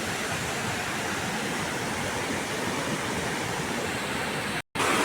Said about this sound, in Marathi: पर्याचा आवाज एवढा आहे ना पाण्याचा की काय बोललेलं ऐकू येत नाही आपल्याला